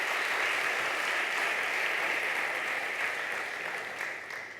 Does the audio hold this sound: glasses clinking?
no